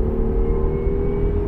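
Acura NSX engine with a catback exhaust revving toward its 8,000 rpm redline from inside the car, a steady loud droning hum with a low grunt that holds evenly throughout, no talking.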